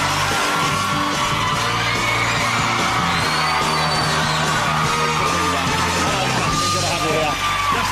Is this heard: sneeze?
no